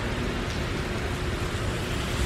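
Heavy rain pouring steadily during a weak thunderstorm, a dense, even hiss with low rumbling underneath and no distinct thunderclaps, close and continuous throughout.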